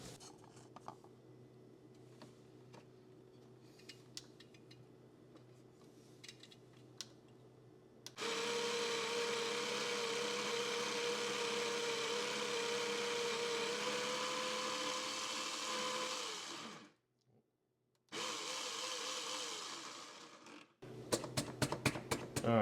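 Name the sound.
coffee grinder grinding Costa Rican coffee beans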